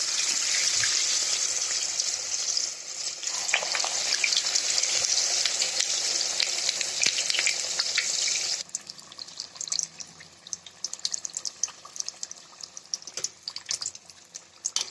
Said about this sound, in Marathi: आता आपण फ्राय करून देऊया